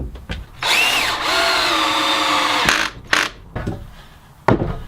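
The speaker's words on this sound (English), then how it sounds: "Now I can put some glue on the ends of the boards, clamp them in place, and screw it together." A power drill drives screws into reclaimed wooden crate boards, with a loud whirring burst lasting about two seconds, its pitch dipping under load, followed by short clicks and brief whirs close by.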